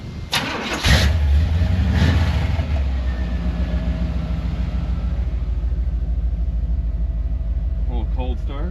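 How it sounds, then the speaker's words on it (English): A 1978 Chevrolet C10 squarebody with new exhaust cold-starts: a brief cranking burst catches into a loud, rumbling idle that holds steady and close, with a voice briefly heard near the start. "A little cold start, I guess."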